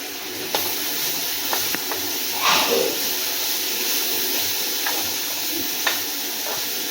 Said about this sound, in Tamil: தேங்காய் சேர்த்து நல்லா வதங்க விடலாம்